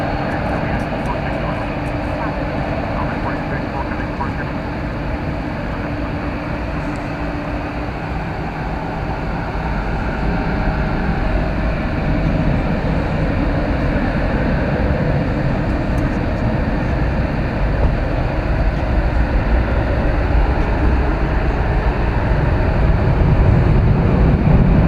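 An American Airlines Boeing 737-800 rolls down a runway at DFW Airport on its takeoff run, a broad, steady roar of jet engines that grows gradually louder and fuller over about 25 seconds.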